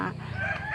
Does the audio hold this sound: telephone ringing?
no